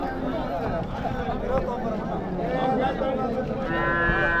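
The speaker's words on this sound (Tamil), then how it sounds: "ஸோ ரெண்டுமே பார்த்தீங்கன்னா நல்லா அருமையான மாடு" Cattle at an open cattle market in Vaniyambadi, with a cow mooing near the end over a busy background of crowd chatter and someone talking throughout.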